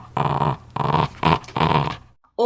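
A West Highland terrier growls in four close, loud bursts, each rough and throaty, with short gaps between them. A brief higher whine-like sound comes at the very end.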